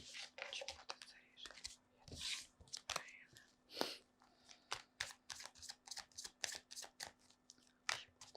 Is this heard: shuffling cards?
yes